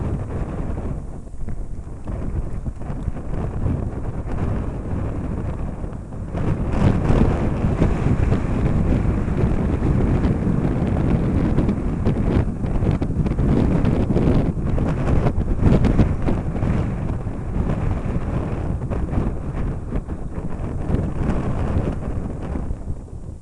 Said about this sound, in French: Le vent est très irrégulier, c'est pas évident à gérer.